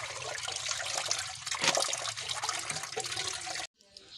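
Bullfrog meat being washed in water, with sloshing, splashing and trickling close by in an irregular churn that stops abruptly near the end, followed by a brief quieter splash.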